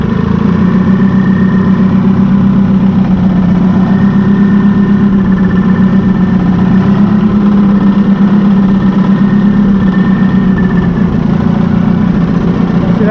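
A Massey Ferguson 821 tractor engine, just back from a clutch repair, runs steadily and loudly at close range with an even mid-low drone and slight vibration, no talking over it.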